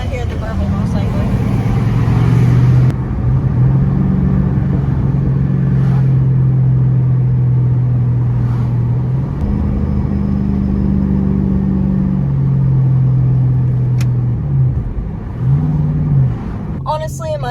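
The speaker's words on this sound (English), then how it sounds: "This is where you're gonna hear the burble most likely." Roush Extreme axle-back exhaust on a car giving a steady low burble while cruising, with engine tone rising and falling slightly over a continuous loud drone.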